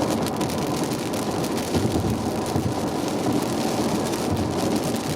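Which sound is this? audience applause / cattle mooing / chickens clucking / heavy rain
heavy rain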